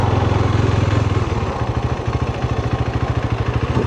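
KTM 390 Adventure single-cylinder motorcycle being ridden with manual gear shifts, a loud steady engine drone that drops in pitch after about a second and a half and then settles into a rhythmic, pulsing beat.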